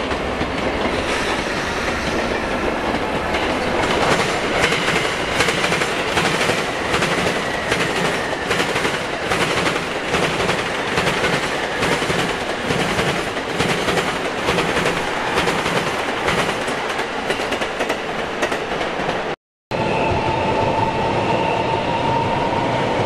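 A LEGO model of an E233 series Tokaido line train runs along its track, giving a steady, close rattling clatter of wheels over rail joints that continues throughout, cut by a brief gap near the end.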